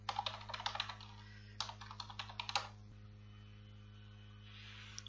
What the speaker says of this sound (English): Let me enter the default username and let me enter the password.